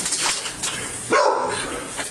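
Dogs bark during a tense police bodycam encounter outdoors, with one sharp bark standing out over a noisy, busy background.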